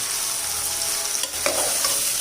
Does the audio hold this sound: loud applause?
no